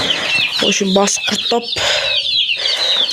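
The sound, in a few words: Brahma chickens and rooster clucking in coop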